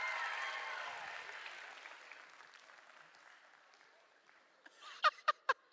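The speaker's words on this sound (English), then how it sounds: "let's give these guys a round of applause" A church service audience applauds children after a stage performance, a fairly loud burst of clapping that gradually fades over several seconds, followed by a few sharp, close individual claps near the end.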